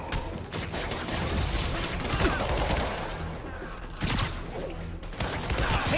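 Rapid bursts of gunfire in Marvel's Spider-Man Remastered, with sharp shots crackling in clusters throughout and pausing briefly between volleys, at a moderate level with no speech.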